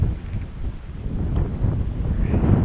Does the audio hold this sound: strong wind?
yes